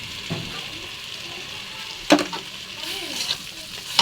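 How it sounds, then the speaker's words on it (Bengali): Spinach stirred in a hot pan with turmeric and salt, a soft steady sizzle broken by a few sharp scraping stirs of the spoon against the pan. "এবার ভালো করে মশলাটা মাখায় নেবে পালং শাক দিয়ে।"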